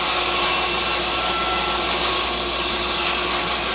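A large bandsaw cuts through a big wood blank, a loud unbroken whirring rush of blade and motor with no pauses or voices.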